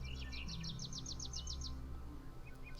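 Minecraft birdsong from the Dynamic Surroundings mod: a quick run of bright repeated chirps over a low ambient hum, then a few softer calls, with no voices.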